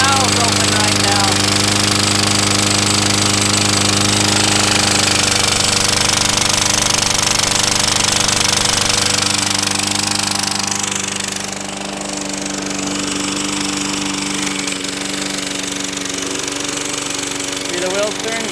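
A self-propelled lawn mower engine with a homemade vaporizer valve runs steadily and loudly close by, a rough rumbling drone whose pitch shifts slightly partway through, with a voice speaking over it.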